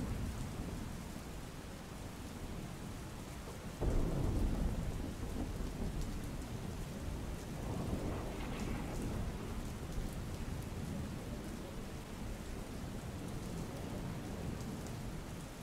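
Steady rain pours down on roads in Deesa, Banaskantha, with a sudden loud thunderclap near four seconds followed by a rolling rumble, the downpour continuing evenly throughout.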